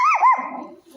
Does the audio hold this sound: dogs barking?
yes